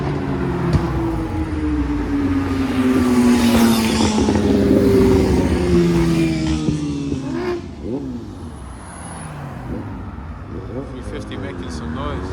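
A Nissan 350Z engine at a Japanese car meet in Reading, a loud, rising and falling drone for most of the clip that fades after about eight seconds, with crowd talk and other traffic mixed in.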